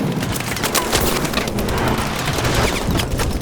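Dense, continuous gunfire from the Call of Duty Advanced Warfare campaign. Rapid automatic bursts and booms run without a break, loud and close.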